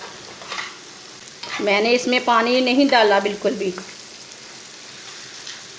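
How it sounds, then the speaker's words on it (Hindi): Eggs fry in a pan with lentils for a masoor dal egg dish, a soft steady sizzle running under a person speaking close by. "1 मिनट तक अंडों को भून लेना"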